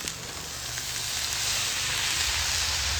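Cauliflower and potatoes sizzle steadily in a pan after ginger-garlic paste has cooked, a continuous close frying hiss with a low bubbling underneath and no talk.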